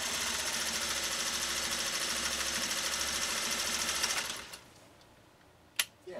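A 1956 Singer 401A sewing machine stitching a pattern through leather, a fast steady rhythmic mechanical chatter close by that runs for about four seconds, then stops, followed by a single sharp click.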